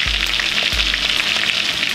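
Pork-rind-breaded chicken nuggets sizzle steadily in hot frying oil as a batch is flipped, a continuous close crackle with two low thumps from the turning pieces.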